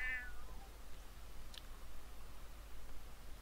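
A pet cat in The Sims 4 lets out one short, quiet meow right at the start, followed by faint background hiss with no other clear sounds.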